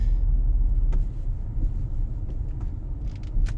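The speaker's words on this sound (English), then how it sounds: "our last test for the car is of course driving over the speed bump here" A BMW M135i xDrive rolls slowly over a speed bump, with a steady low road rumble, some wind buffeting and a few faint thumps and creaks from the car.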